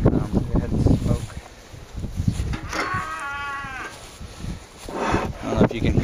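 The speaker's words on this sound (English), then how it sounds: "I don't know if you can hear the cow. He's not happy." An unhappy cow moos once in a long wavering call from a short distance away at a beekeeping yard, with a person talking before and after.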